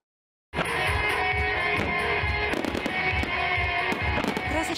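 Fireworks go off at a pyrotechnics festival in Smolensk, a dense run of booms and crackling bursts starting after a brief silence and continuing loudly with sharp reports layered over a rolling roar.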